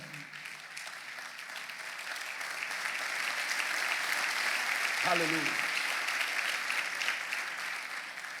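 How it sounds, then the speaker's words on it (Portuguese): A church congregation applauds in a broad, steady wash of clapping that swells and holds, while a single voice calls out over it partway through. "Aplaude o Senhor."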